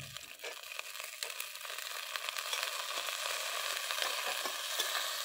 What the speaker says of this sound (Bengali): বিনসটা হাফ ভাজা হয়ে গেছে। এবার এর মধ্যে দিয়ে দেব কড়াইশুঁটিটা।